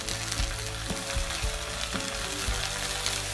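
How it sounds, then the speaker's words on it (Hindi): Ginger garlic paste sizzles loudly with fried onions in a hot pan for aloo soya chunk masala, a steady crackling fry with periodic scraping stirs. "अब इसमें 2 टेबलस्पून अदरक लहसुन का पेस्ट"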